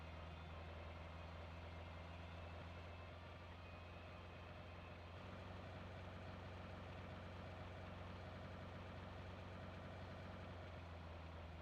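Steady low vehicle engine drone in PUBG Mobile, a continuous rumbling hum with no pauses, alone and fairly even in loudness throughout.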